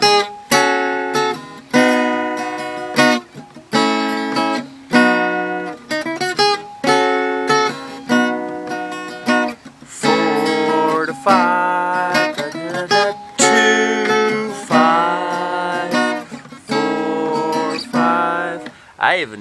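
Acoustic guitar picking a melody over strummed chords, with a melody note that clashes with its target chord, played in rhythmic phrases with short pauses, loud and close with no talking.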